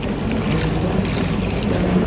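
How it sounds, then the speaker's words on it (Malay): Water poured into a cooking pot for a Sri Lankan curry, a steady continuous splashing pour lasting about two seconds, close and fairly loud with no talk over it. "Okey, kita nak masukkan air"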